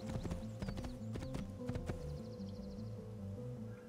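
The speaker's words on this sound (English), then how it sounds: "Hopefully I don't have to be on my horse for too long." Horse hooves clip-clopping in Assassin's Creed 2 as the player rides, a steady rhythmic gallop of repeated thuds with a brief whinny-like tone, heard alone without talk.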